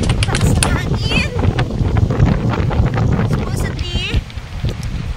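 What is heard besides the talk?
strong wind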